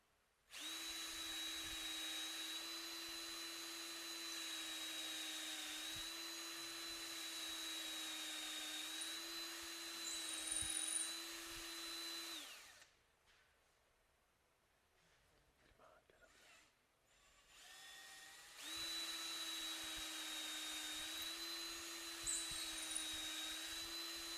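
A power drill bores holes into a wooden tool handle, a steady high whine running for about twelve seconds, pausing amid quiet handling noises, then starting again near twenty seconds.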